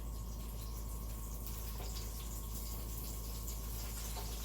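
Brussels sprouts frying in hot oil as water drips in, giving a steady, close crackling sizzle with a hissy wash that holds continuously with no talk.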